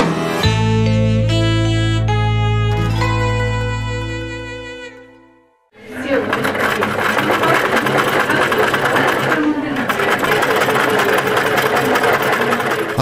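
A sewing machine stitches a piece for a new dress, a fast, steady mechanical chatter that takes over after a few seconds of sustained musical tones.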